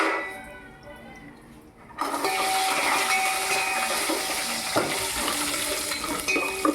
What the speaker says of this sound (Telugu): ఇదిగో జీడిపప్పులు వేయించుకుంటున్నాను